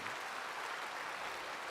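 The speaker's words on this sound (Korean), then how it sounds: "여러분 다시 한번 박수 한번 합시다." Applause from a congregation at a Korean church service for visiting US lawmakers, a dense even wash of clapping, soft and brief.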